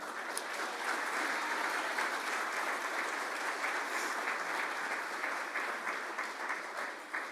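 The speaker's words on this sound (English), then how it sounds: "Big round of applause, please." A Rotary Club audience gives a long, steady round of applause honoring a firefighter and honor guard member, dense and even clapping that fades slightly at the end.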